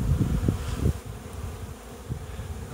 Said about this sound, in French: il y a un essaim en direct